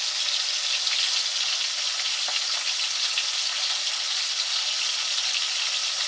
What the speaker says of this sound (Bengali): চিকেনটা ভালো করে ভেজে নিচ্ছি।